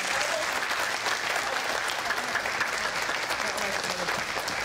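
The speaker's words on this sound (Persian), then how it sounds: "خب یه تشویق بکنید سید خندان رو" Audience applause at a live comedy show, a dense, steady clapping that carries across the whole stretch without pause.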